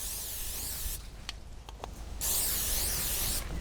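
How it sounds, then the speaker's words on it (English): Canola oil cooking spray hisses from a can outdoors in two sustained bursts, the second longer and louder, separated by a short pause with faint clicks. "I'm going to take some cooking spray"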